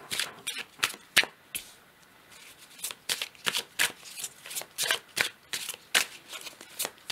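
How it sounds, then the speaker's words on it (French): Tarot cards shuffled and drawn by hand, a close run of quick crisp riffles and flicks coming in uneven bursts on their own, with no talking. "on va peut-être prendre aussi un dernier duo de cartes"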